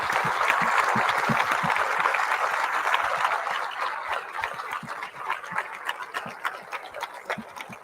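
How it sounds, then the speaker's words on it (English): An audience applauds two families at a halftime show, a dense roar of clapping that starts strong, then thins into scattered, uneven claps toward the end with some faint voices mixed in. "So please join me in applauding these two families and the heroes that they forged."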